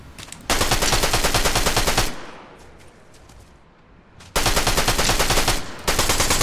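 Fast automatic gunfire in the video game Unreal, two long dense bursts of rapid shots, loud and close, separated by a short quieter gap with distant echoing pops.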